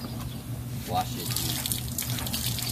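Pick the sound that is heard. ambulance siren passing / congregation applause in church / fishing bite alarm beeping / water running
water running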